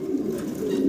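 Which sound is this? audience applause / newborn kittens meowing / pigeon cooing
pigeon cooing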